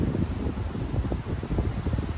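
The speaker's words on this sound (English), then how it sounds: "It's windy out here." Wind blows outdoors, buffeting and rumbling steadily against the microphone in low gusts, with no voices.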